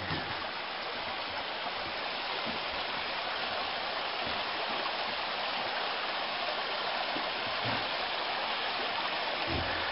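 Steady rushing of Fern Creek flowing continuously through Fern Canyon in Prairie Creek Redwoods State Park, heard from a bridge, a broad even wash of sound close by with no voices.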